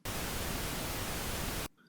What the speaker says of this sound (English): Listen to pink noise.